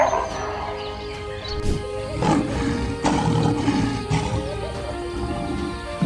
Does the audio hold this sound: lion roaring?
yes